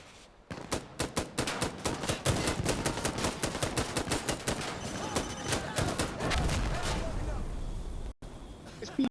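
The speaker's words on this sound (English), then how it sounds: "It sounds still fucked up on that machine gun" Rapid machine gun fire in Insurgency Sandstorm, fast repeated shots in bursts lasting most of the span, loud and close, with brief voices around the gunfire.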